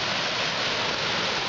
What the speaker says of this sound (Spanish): llegamos a la cascada del Hervidero